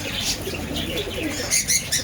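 Newly arrived pigeons from Kolkata, just released at a shop counter, flutter their wings and softly coo nearby, with a few quick flapping bursts near the end.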